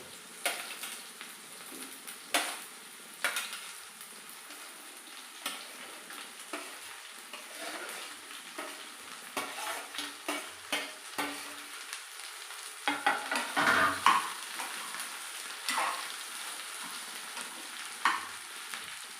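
Okra curry is stirred in a pan while it cooks, with faint sizzling under a series of soft scraping strokes that come irregularly, clustering more busily toward the end.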